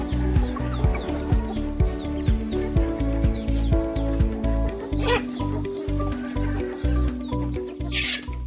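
Ayam Cemani chickens cluck steadily in a rhythmic, repeated pattern, fairly close and loud, with a brief harsher call near the end.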